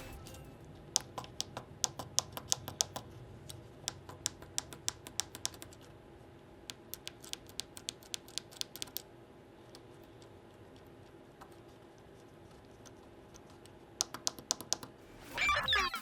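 Bursts of small, sharp plastic clicks from fidget cube buttons tapped in quick runs, a quiet stretch in the middle, then a few more clicks near the end.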